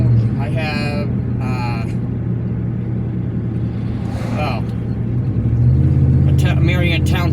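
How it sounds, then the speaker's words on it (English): A Marion Township truck drives by on a road near Jacksonville, a steady low engine rumble that swells toward the end as it comes closer, with someone talking over it throughout. "a Marion Township truck coming by."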